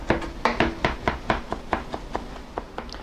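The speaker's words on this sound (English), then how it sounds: "hold onto your knife on top and just rock back and forth" A rocking knife chops herbs on a board, a close, steady run of about a dozen crisp taps that gradually soften toward the end.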